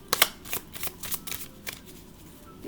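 Oracle cards are shuffled by hand in quick riffling bursts, papery slaps and flicks close by, loudest at the start and tapering off.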